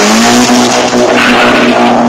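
A diesel car engine revs hard and loud up close, a sustained strained roar holding steady for about two seconds.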